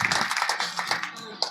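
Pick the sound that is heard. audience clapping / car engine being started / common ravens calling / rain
audience clapping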